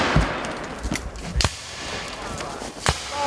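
Scattered rifle shots crack at a Civil War reenactment of Port Hudson, several uneven reports near and far over noisy outdoor ambience, with faint shouting in the background.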